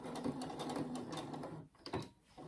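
A sewing machine stitches fabric for a phone pouch, running in a fast close mechanical rattle that briefly pauses and restarts, with no voices.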